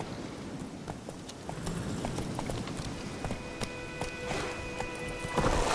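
Roach, a horse in The Witcher 3 video game, gallops with steady clip-clop hoofbeats at a moderate distance, continuing at a quick rhythm throughout over faint background ambience.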